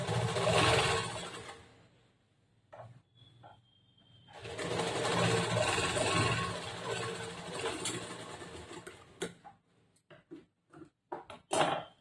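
A sewing machine stitching a princess-cut blouse runs in a short burst, stops, then runs again in a longer stretch before breaking into brief stop-start bursts, all close and fairly loud.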